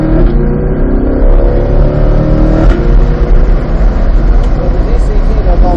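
A car on the Charlotte Motor Speedway race track accelerates hard out of a wide line with full power, its engine droning loud and steady throughout, with rising harmonic tones as it pulls.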